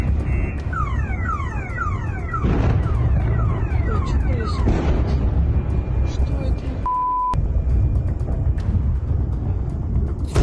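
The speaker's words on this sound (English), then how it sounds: "In Taganrog, there are arrivals and the sounds of a siren." Siren wailing in Taganrog, Russia, during incoming strikes: repeated rising-falling tones over a low rumble, fairly loud and steady, with a brief steady beep midway.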